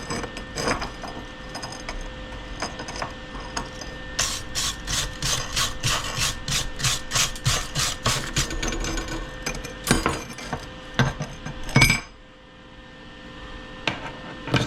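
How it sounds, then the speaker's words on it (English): Metal clinking and rattling as a freshly MIG-welded steel piece from a Lincoln 140C welder is gripped and handled with pliers, a rapid burst of close, bright taps in the middle followed by a sharp knock and quiet. "Grab it with our pliers here."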